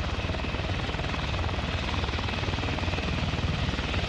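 A helicopter in the video game Arma 3 drones with a constant thudding rotor chop, loud and steady throughout with no voices.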